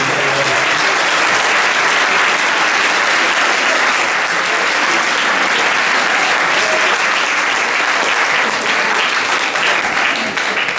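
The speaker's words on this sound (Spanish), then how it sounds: "Denle un aplauso a Jesucristo." Loud, continuous applause from a church congregation at a Spanish-language Sunday service, filling the whole stretch with steady dense clapping.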